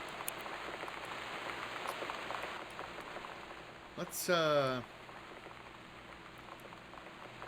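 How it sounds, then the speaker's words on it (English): Steady hiss of rain ambience in a video game, loud and continuous, with someone talking over it and a brief rising electronic tone partway through. "The rain is drowning out the sound of you."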